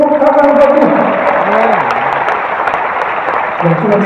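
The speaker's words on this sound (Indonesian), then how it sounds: "Kita juga tepuk tangan bagi" A church congregation claps in a brief, dense round of applause close by, with a voice speaking over it.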